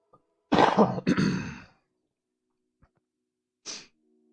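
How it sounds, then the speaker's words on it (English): A couple of harsh throat-clearing coughs close to the mic, followed by silence and a short breathy cough near the end. "sorry about the coughing"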